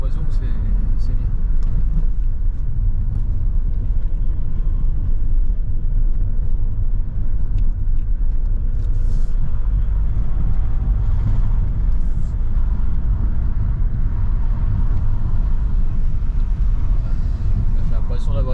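A car engine runs steadily while driving after a repair of the engine wiring harness, with the turbo working and one injector still faulty, a constant low rumble and road noise filling the cabin with little variation.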